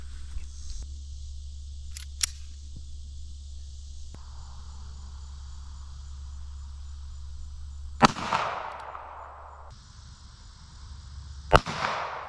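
Two sharp, loud reports from a Ruger .380 LCP pistol fired outdoors, spaced a few seconds apart over a steady insect-like drone and low background hum.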